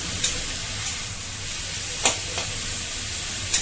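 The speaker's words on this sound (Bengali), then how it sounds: "তো যত চটপট এটা ভাজা হবে" Cabbage chow mein stir-fried over a high flame gives a continuous loud hiss, broken by a few sharp clicks of a utensil against the pan.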